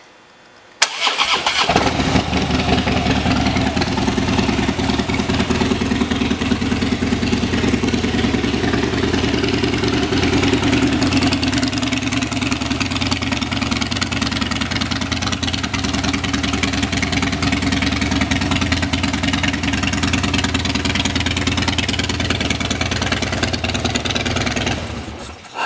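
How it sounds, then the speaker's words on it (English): A 2016 Harley-Davidson Dyna Fat Bob (FXDF) with aftermarket pipes fires up and settles into a loud, steady, close idle, its deep exhaust rumble continuing unbroken for over twenty seconds before cutting off. "Let's listen to those pipes."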